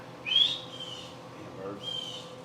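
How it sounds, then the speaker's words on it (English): A pet bird gives two short whistles indoors in a kitchen, a brighter rising one near the start and a softer one near the end, over a low room hum. "shut up, bird!"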